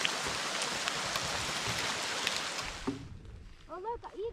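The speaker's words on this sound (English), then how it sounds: "So we're just caught in a hail lightning storm." Hail pours down during a lightning storm on a remote wilderness camping and fishing trip, a dense, steady hiss and clatter that suddenly cuts off, leaving quiet with a few voices talking.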